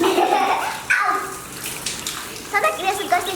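A child splashes water outdoors in the rain, giving irregular close splashes and sloshes mixed with a voice and excited chatter.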